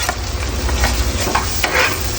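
White onion sautéing in a frying pan, a dense, steady sizzle with light stirring scrapes, close and loud, with no talking.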